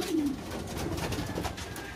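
A fighting-breed pigeon coos close by in a loft, giving a low throaty call at the start over a steady rustling background, with no talking.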